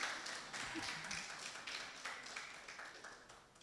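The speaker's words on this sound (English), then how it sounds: "Please, a round of applause as they do the official launch." An audience applauds at the official launch of an annual report, a faint and distant patter of clapping that fades toward the end, with some low talk beneath it.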